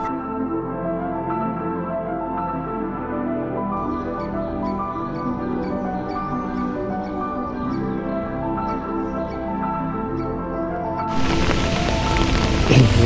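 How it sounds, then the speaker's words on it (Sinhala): Steady rain falls during a walk through a Sri Lankan landscape of yellow blooms, a continuous even hiss that swells noticeably louder and heavier near the end, with no voices. "වහිනවා යාළුවනේ."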